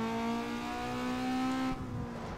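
A Honda Civic engine from the racing game Need for Speed Underground 2 holds a steady, buzzing drone at high revs, then drops off sharply near the end, close and alone.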